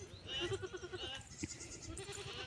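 Goats and newborn goat kids on a farm bleat in short, wavering calls, mingled with a person speaking nearby and some quiet background shuffling.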